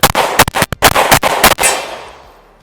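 Rapid, loud gunshots from a Glock 36 pistol, a string of sharp reports with brief gaps between them that ends in a fading ring-out.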